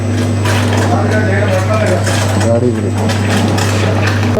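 A massage machine running during a men's pedicure at a salon in Kuwait, giving a steady mechanical hum with faint rattling, under continuous talk.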